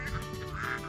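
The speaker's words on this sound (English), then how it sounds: "The other duck's just coming out of the house now." A duck on a rural property in Tasman, New Zealand, gives a short, close, raspy quack lasting under a second.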